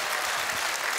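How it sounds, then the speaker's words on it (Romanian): Audience applause during a judging segment of a Romanian talent show, a soft, steady patter of many hands that is fairly distant and low in level, with no voices over it. "Aplauze, am zis pornografie."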